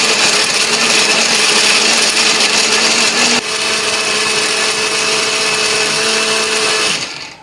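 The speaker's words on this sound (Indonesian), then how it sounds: "ini akan kita haluskan menggunakan blender" A kitchen blender grinds broken-up chili spice paste with a little water: a loud, steady, high-pitched whir runs for about seven seconds, shifts pitch slightly midway, then winds down.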